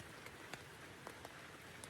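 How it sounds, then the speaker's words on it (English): Light rain falls outdoors on a trail, a soft steady hiss with a few distinct drops ticking nearby, faint and without voices. "it is raining a little bit"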